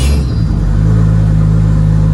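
A Toyota JZ engine fitted with a drive-by-wire throttle cranks and catches, then settles into a loud, deep, steady idle rumble close by, with no voices over it.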